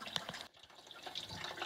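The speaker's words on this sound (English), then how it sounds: "Now the coolant will start dripping out" Coolant dripping and trickling out of the cooling system of a Mercedes M112 V6 engine during a water pump replacement, a quiet, steady liquid patter with small splashes, close by.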